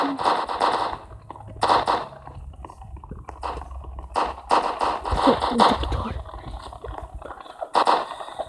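Gunfire in the Roblox prison-escape game Redwood Prison: repeated bursts of sharp synthetic shots, some in rapid runs, with a person talking in between.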